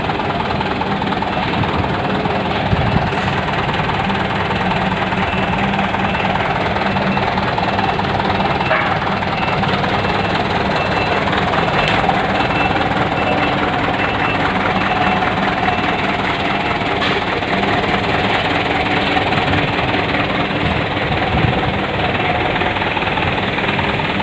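A 2007 Mitsubishi Canter truck's turbo intercooler diesel engine runs steadily throughout, a loud, continuous low rumble with a knocking texture, and a voice speaks faintly beneath it.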